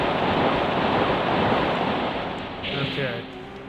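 A waterfall in the video game King's Field, a steady loud rushing wash of falling water that fades slightly near the end, with a brief tonal game sound over it.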